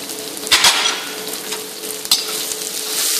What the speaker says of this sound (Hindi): सबसे एक साथ सौते करना है।